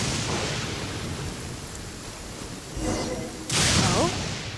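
Steady rain hiss fills the scene in the Genshin Impact video game, Mondstadt, a constant broadband wash with a louder whooshing swell near the end.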